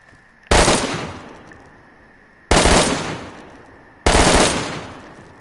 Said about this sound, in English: I'm going to put out a load of bait shots and get in this building